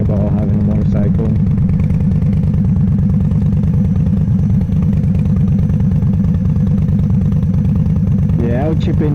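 Motorcycle cruising through city streets, its engine thrumming loud and steady from the rider's position over wind noise, while the rider talks throughout.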